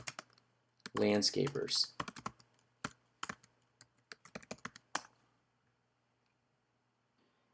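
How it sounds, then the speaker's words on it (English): Typing on a computer keyboard: a dense burst of quick key clicks, then scattered individual taps that trail off into quiet, with a brief spoken word in between. "We're going to type in, let's say, Newport Beach"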